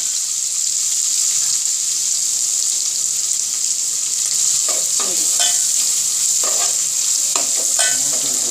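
A tablespoon of garlic and ginger fries in a pan with a constant close sizzle, broken by a few light clinks and stirring scrapes.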